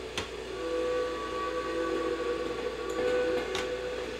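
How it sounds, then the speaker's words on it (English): A steam locomotive whistle in the railway game Derail Valley, a sustained breathy, hissing whistle tone that holds for several seconds over the train's background rumble. "Gotta blow the whistle."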